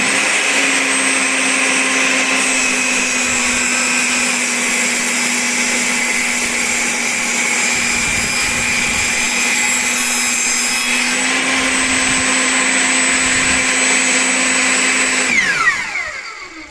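Table saw ripping thin strips from a board against a rip jig, a loud continuous motor whine with a steady hum and cutting noise, a slight shift in pitch midway, then spinning down at the end.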